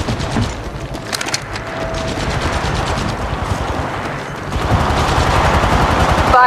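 Rapid automatic gunfire in the mobile shooter Apex Legends Mobile, loud close bursts of shots rattling in fast rhythm with mechanical clatter and a brief pause mid-way.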